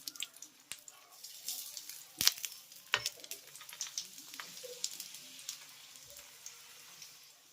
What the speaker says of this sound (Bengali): আর এইভাবেই সবকটি পরোটা আমি ভেজে নেব